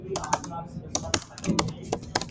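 Code being typed on a computer keyboard, a quick, uneven run of crisp key clicks, close and clear, with some speech underneath.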